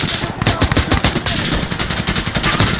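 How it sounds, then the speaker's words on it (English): Rapid bursts of automatic gunfire in the tactical shooter Insurgency Sandstorm, loud and close, with dense repeated shots running almost continuously. "I'm shooting"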